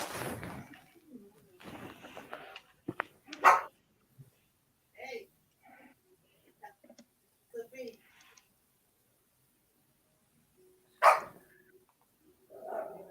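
A dog barks in short, separated bursts, a few sharp yaps rising above intermittent talk and background sounds, with one loud bark near the middle and another toward the end.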